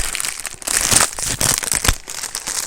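A small pouch for a paper-craft subscription box being handled, giving loud, continuous crinkling and crackling with bursts of sharper rustle, close up and alone.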